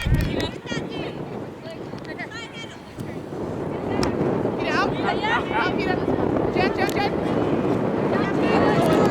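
Wind buffets an outdoor ultimate frisbee field during a women's club sectionals game, a loud steady roar with gusty rushes, and voices call out over it.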